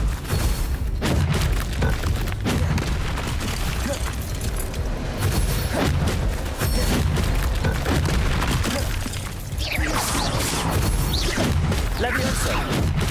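Incendio fire spell cast in the Hogwarts Legacy video game, with repeated crackling bursts, thuds and crashes of spell combat that fill the clip densely and loudly while a voice speaks over them.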